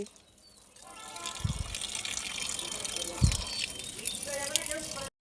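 Water gushes steadily from a hose or can onto potted plants on a rooftop, a rushing splash running under voices talking nearby.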